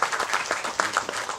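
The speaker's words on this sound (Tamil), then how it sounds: "உங்கள் கரகோஷங்களோடு" An audience at a movie event applauds, a short burst of dense, lively clapping from many hands, fairly loud and close.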